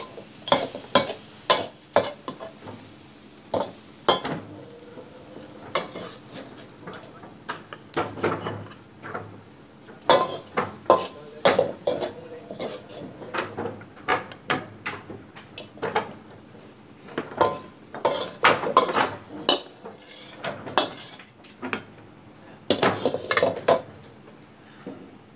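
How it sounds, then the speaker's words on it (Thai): Bitter melon and egg are stir-fried in a pan: repeated metallic scrapes and clanks of a utensil against the pan over a soft sizzle, in uneven bursts, with no talking. "เรียบร้อยค่ะผัดมะระใส่ไข่นะคะ"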